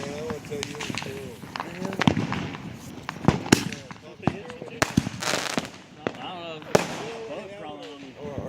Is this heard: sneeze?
no